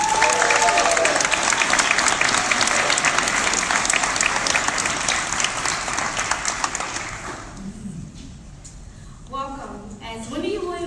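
A crowd at the Tulsa Changemakers pitch night in December 2018 applauds loudly to welcome a student speaker, dense clapping for about seven seconds that then fades as a voice begins speaking.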